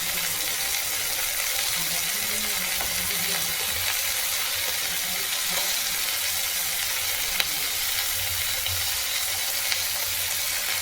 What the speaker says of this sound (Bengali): সব রকম সবজি দিয়ে নাড়তে শুরু করেছি।